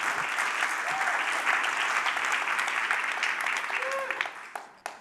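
A conference talk audience applauds in a dense, sustained wash of clapping that tapers off at the end, with a brief voice or whistle faintly heard.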